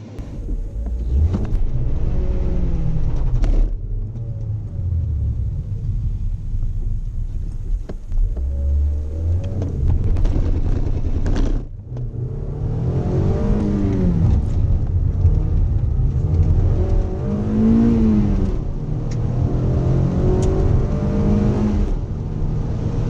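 A Mazda MX5 climbs the wet Wiscombe Park hillclimb course, its engine droning and rising through the gears with repeated revs, shifts and easings, loud and close throughout.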